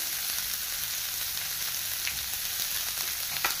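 Finely chopped onion fries in a pan over low to medium gas, giving a steady soft sizzle with light crackles near the end, close but quiet, with no talking.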